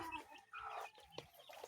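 Soft, close chicken clucks and chirpy fowl calls in a small coop, a quiet space, a few short bursts scattered over the moment.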